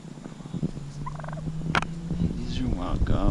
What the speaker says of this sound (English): These are wild gobblers.